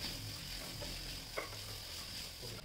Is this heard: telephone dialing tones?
no